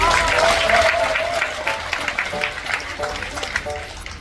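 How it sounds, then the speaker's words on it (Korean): An audience at a cruise-travel gathering claps to welcome a company chairman to the stage, a brief burst of applause under a speaking host's voice that fades as the clapping thins. "박수 한번."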